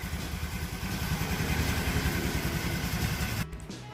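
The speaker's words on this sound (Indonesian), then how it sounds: "ternyata motornya sudah hidup" A Honda Vario carburetor scooter engine runs with a steady close putter that cuts off abruptly near the end, leaving only quiet background.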